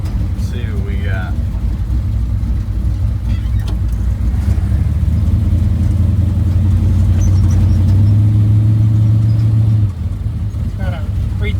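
A 632 street car with a 4L80E transmission revs loudly and close, then holds a steady droning note on a 3,000 RPM two-step during a trans brake test before cutting off. Voices talk briefly over the engine.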